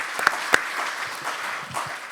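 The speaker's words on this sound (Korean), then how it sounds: "큰 박수 한번 드릴까요?" Audience applause at a Korean science and technology day event in the National Assembly, a short burst of clapping with a couple of sharp, close claps standing out and a faint voice underneath.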